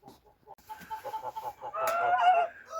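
Domestic geese, a family flock including a dark clay-coloured goose and a white one, honk and cackle nearby in a village yard, calls building from scattered short honks to a loud, continuous chorus.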